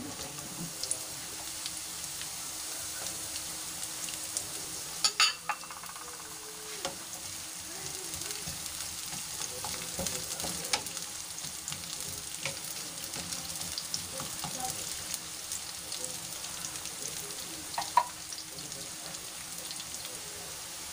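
Onion frying in a pan sizzles in a soft, steady hiss with scattered pops and crackles, plus occasional clinks from stirring, continuing evenly at a fairly low level throughout.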